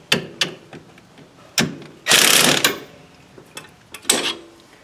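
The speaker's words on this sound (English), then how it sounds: "Now we could tighten all these other bolts up." Wrenching bolts on a Perfex 2-inch lift kit for a 2022 CF Moto 800 Trail: a series of sharp metallic clicks and clunks, with a longer ratcheting burst in the middle and a few scattered taps near the end, close and fairly loud.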